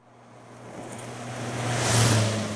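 Dodge Ram pickup truck driving through Estonian winter, a low engine hum under a broad rushing roar that swells louder toward the end, with no voices.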